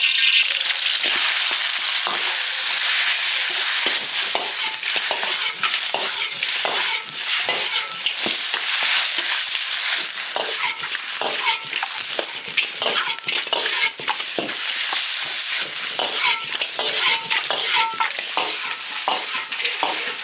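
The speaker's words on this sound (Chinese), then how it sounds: "鸡子直接下锅炒。" Loud, continuous sizzling of chicken pieces in a hot wok with constant scraping and tossing of the spatula, dense crackling throughout, no speech.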